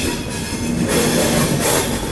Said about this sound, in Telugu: విజయవాడ రైల్వే స్టేషన్ నుంచి అయితే మన కోరమండల్ ఎక్స్ప్రెస్ అయితే డిపార్ట్ అయిపోతుంది